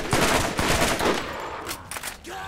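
Rapid gunfire in the video game Borderlands rattles in dense, loud bursts for a couple of seconds, then thins to a few scattered shots.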